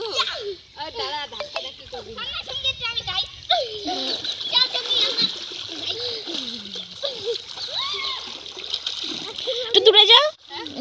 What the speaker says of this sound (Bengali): এখন আমরা এই পুকুরে আসছি। পুকুরে হচ্ছে স্নান করতে